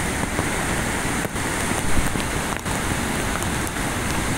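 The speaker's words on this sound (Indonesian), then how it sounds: "hujan masih deras disertai angin" Heavy rain with wind during a downpour near a river weir: a dense, steady roar of rainfall with gusty rushing noise and a few sharp spatters, loud and continuous, no voices.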